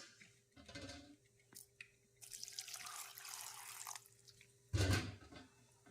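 Water pours in a short splashing stream into a grinder jar holding poppy seeds, with a few clinks and knocks just before and a sharp clatter after it.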